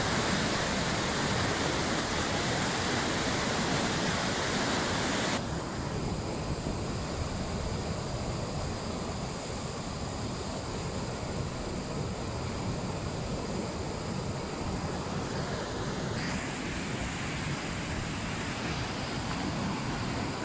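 A rushing river, heard from a bridge in St-Lin, Laurentides, Quebec, in April, as a loud continuous broadband roar of fast flowing water that fills the whole clip with no pauses.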